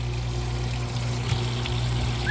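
Water pours steadily into the tank of a portable self-contained dog washing tub, a continuous close splashing trickle over a steady low mechanical hum, with no voices.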